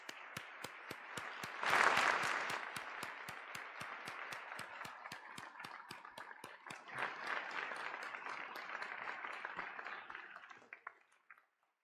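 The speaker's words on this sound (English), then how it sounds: "let's give them a round of applause" A crowd applauding steadily, swelling briefly near the start, then holding even before tapering off and stopping near the end.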